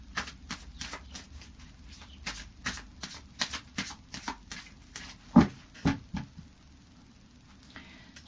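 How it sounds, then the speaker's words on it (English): Fairy Oracle cards riffled and shuffled by hand, a quick run of crisp rhythmic flicking bursts that fades into a quieter pause at the end, close and alone. "just do a final shuffle of the Fairy Oracle"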